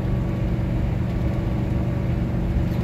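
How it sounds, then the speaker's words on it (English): A Vortec 8.1 truck engine drones steadily from inside the cab as it climbs a slight hill, a low, even rumble with no break in tone. "Slight hill right now. Now we just downshifted."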